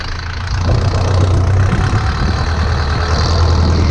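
A Steyr 768 tractor engine idles nearby, a loud, steady low rumble with a constant mechanical drone that holds evenly for several seconds, no voices.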